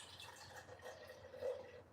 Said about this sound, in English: And it pours like a can of Coke, right?